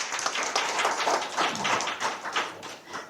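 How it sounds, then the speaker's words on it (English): Audience clapping for a climber, Alex, at a Taipei 101 event: dense, continuous applause from a crowd, moderately loud and steady throughout with no clear talk over it. "Yeah, you can clap for that."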